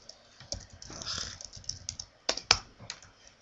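Keys on a computer keyboard are tapped in short irregular runs, close and fairly soft, with a few sharper isolated clicks standing out.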